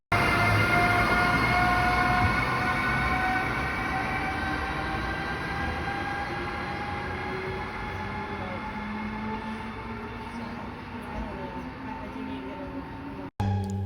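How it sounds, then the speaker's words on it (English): An Amtrak ACS-64 electric locomotive, not leading, hauls a passing MARC commuter train, with a steady electric whine, rolling wheel noise, and a brief abrupt cut near the end. "here's my clip of an Amtrak ACS 64 on a Marc train"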